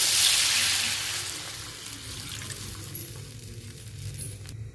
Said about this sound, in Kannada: ಇದಕ್ಕೆ ಸ್ವಲ್ಪ 1 ಗ್ಲಾಸ್ ನೀರು ಹಾಕೊಳತ್ತೀನಿ ರೀ.